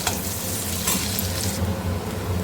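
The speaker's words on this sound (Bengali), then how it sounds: "পেঁয়াজটা একটু ভাজা হয়ে যায়" Finely chopped onions frying in oil in a pan for a prawn curry, a steady close sizzle with soft stirring underneath, continuous and fairly loud, with no voices.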